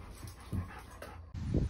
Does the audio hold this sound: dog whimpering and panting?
yes